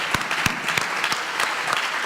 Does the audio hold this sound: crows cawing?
no